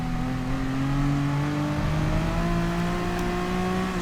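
A Gr.3 race car in Gran Turismo Sport on a rainy Spa circuit revs steadily, its engine tone climbing and holding loud and close with a brief dip midway, no voices present.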